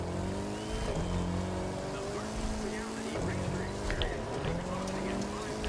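A pickup truck engine in The Crew 2 rally raid drones steadily and close, its pitch stepping up through repeated gear shifts with faint tire noise underneath, and a voice talking over it.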